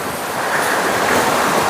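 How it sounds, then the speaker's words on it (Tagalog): Strong wind roaring high up on a mountain, a steady broadband rush that swells slightly and buffets the microphone, with no voices. "Wala, ang lakas ng hangin doon sa itaas."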